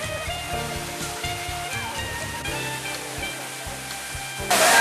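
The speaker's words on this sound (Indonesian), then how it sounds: "disambut dengan deburan air terjun yang segar dan indah" A tall double waterfall pours down with a steady, dense roaring rush that holds throughout and swells louder at the end.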